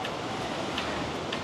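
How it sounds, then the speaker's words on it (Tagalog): Gentle surf washes onto a beach in Baler, a soft continuous rush with faint breaking swells and a touch of wind, fairly quiet and without voices. "Ang sarap pakinggan yung tunog ng dagat."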